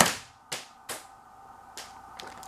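Small gas-powered mini airsoft pistol fires at an indoor wall near a socket: several sharp, snappy cracks at irregular intervals, each with a short bright decay, close and fairly loud with a faint hum between shots.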